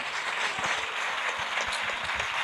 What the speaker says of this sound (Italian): un grandissimo applauso a noi